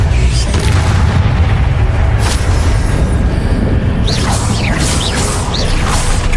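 A spell duel in Hogwarts Legacy fills the scene with a constant rumbling magical roar, punctuated by loud booming impacts and swooshing casts, plus a burst of rising, whistling chirps toward the end.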